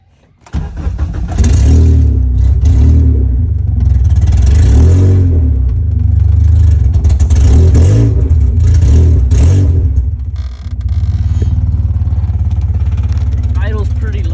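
A K-swapped Honda Civic EG engine fires up close by, then revs loudly in rising and falling surges before settling into a steady, slightly rough low idle.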